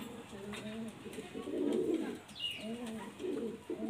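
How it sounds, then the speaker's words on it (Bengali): A green pigeon at home coos in soft, repeated low phrases, close and fairly quiet, with a couple of brief higher chirps and someone talking in between. "দেখুন এটাও সবুজ পায়রা"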